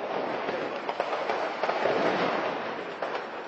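An ammunition depot in Afrin going off, a continuous rumbling crackle of distant blasts and pops rolling without pause, heard from some way off.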